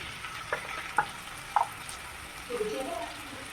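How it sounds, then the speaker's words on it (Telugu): Chopped tomatoes added to a frying drumstick and onion curry in a pan, with a soft sizzle and a few scattered stirring clinks and scrapes, close by and fairly quiet. "ఇందాక కట్ చేసి పెట్టుకున్న 2 టమాటాలు ఉన్నాయి కదా, అవి అయితే యాడ్ చేసుకోవాలి"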